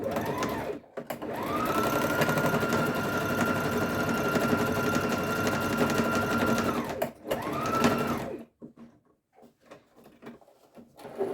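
An electric sewing machine stitches a fabric pleat in a steady, close whirring run of about five seconds, then stops, gives a second short burst of stitching, and falls quiet.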